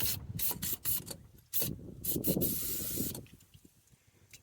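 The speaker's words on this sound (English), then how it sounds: "give her a spritz of the old PB blaster." Several short hissing bursts of PB Blaster aerosol penetrating oil sprayed close by on a Scion tC's sway bar links, followed by a longer continuous spray and faint metallic handling.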